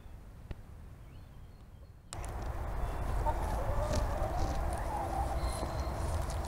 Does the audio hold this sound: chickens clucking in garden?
yes